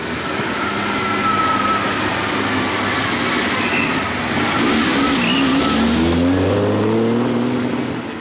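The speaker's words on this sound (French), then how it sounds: "c'est un moteur qui pousse très fort, qui est très pointu, qui monte très fort en régime" A classic car on the Tour Auto 2004 historic road rally, its sharp, peaky engine revving hard and climbing high in the rev range, loud and close, with the pitch sweeping upward near the end.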